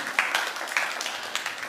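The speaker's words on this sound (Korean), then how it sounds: "오, 진짜 박수 한번 주세요." Audience applause in a church, a light round of clapping from a modest crowd, steady and close, with a few louder claps standing out and brief voices mixed in.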